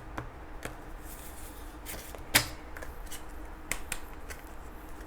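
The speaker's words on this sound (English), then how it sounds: "shuffle this a little bit." Tarot cards being shuffled by hand up close, a run of soft riffling and sharp snapping card taps at irregular intervals, one louder slap near the middle, with no voices.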